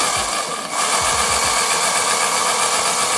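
An electric pocket motocross bike's motor runs in second gear with a steady, loud, high-pitched whine and buzz, with a few low knocks early on.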